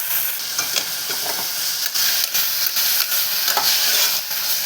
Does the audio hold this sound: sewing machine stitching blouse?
no